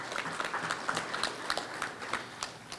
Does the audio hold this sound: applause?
yes